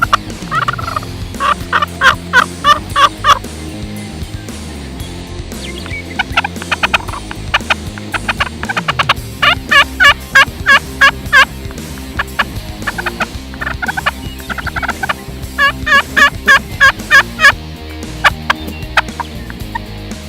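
A wild tom turkey gobbles during a spring hunt, sounding repeated loud rattling gobbles in bursts across the clip, with short bursts of clucks and calls between them outdoors.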